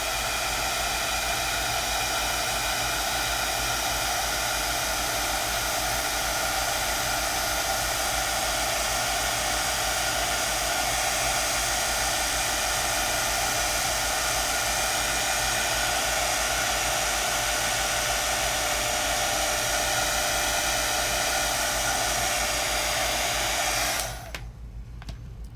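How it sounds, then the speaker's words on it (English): A heat tool drying Fine Tec pearlescent watercolor paint in an art studio blows a steady, loud whooshing roar that holds for about 24 seconds and then cuts off abruptly. "Now I might be able to take my heat tool and just quickly zap it and see if I can get it dry."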